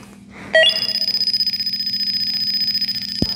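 A refrigerant leak detector tester sounds a steady electronic alarm: a loud, high-pitched tone starting abruptly and pulsing in rapid, even beeps close by, continuing without pause over a low background hum.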